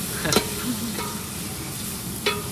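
Vegetables fry in hot oil for a Gujarati home-style shaak, a steady sizzle with a couple of sharp spoon scrapes as they are stirred, close and alone without talk.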